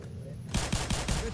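Rapid burst of gunfire in Black Mesa, several loud close shots in quick succession after a brief quiet lead-in.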